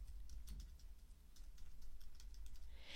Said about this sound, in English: You can type what you like.